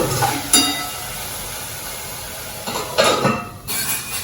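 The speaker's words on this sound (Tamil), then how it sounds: "இப்போ மூடி போட்டு" A pot lid set down on a cooking pot while a banana flower and onion dish cooks, giving brief metallic clinks and clatter, with two quiet clusters of contact sounds close by in a kitchen.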